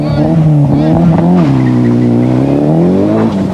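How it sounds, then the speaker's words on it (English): A rally car on the 1993 Hunsrück Rallye tarmac stage pulls away, its engine revving loud and close with pitch rising and falling through gear changes, while a commentator talks over it. "And Weber setting off with now a massive lead over Dieter Depping."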